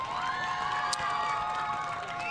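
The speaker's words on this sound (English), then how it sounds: "ladies and gentlemen, one more round of applause" A crowd at a high school girls' soccer game applauds and cheers for the coach, with a continuous roar of clapping, voices and whistles swelling across the field.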